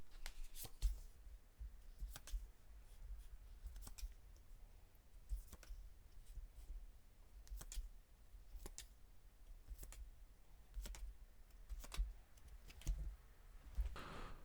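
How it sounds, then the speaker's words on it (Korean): Tarot cards are drawn and shuffled in a quiet room, a faint series of scattered crisp clicks and papery flicks at irregular intervals. "심호흡하시는 동안 제가 카드 뽑아볼게요"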